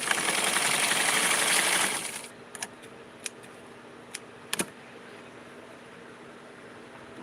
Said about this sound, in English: I sew it very close to the edge.